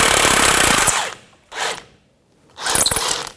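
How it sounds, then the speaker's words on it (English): Half-inch drive tool turning out a Jeep Patriot front steering knuckle pinch bolt: a long ratcheting buzz, a short burst, then a third rattling spin, close and loud with pauses between. "I'm going to use 1/2-inch drive and pull that bolt out"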